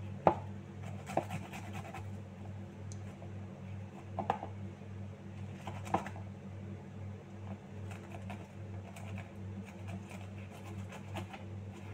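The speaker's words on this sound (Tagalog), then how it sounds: "Hirap i-grate yung bawang." Garlic cloves being grated by hand for homemade fish balls, a soft rasping scrape under a steady low hum, with a few sharper knocks scattered through.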